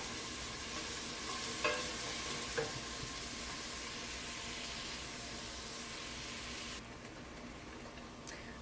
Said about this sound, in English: I'm going to saute this for about 3 minutes